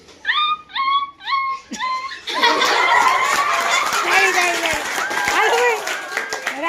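A voice imitates a puppy with four short, high whimpering yelps at a primary school talent event, followed by a burst of laughter and clapping from a crowd.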